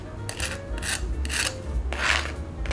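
Crispy, golden Filipino lechon pork belly roll skin, hard as a rock, being knocked and scraped: a few short, dry, rasping crunches in an irregular rhythm, close up, with no talking.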